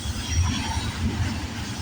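A freight train carrying containers rumbles past close by, a steady low mechanical roar with faint wheel rattle and high squeal throughout, no talk.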